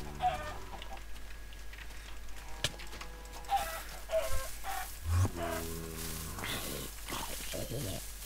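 A chicken in the Minecraft video game gives soft clucks, faint beneath louder game noise and a player talking throughout.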